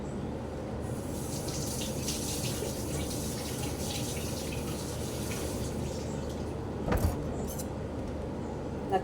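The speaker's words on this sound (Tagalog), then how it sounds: "Hugasan muna natin." Tap water runs continuously into a sink as food is washed under it, a steady close splashing rush with a brief clatter of handling near the end and no talk.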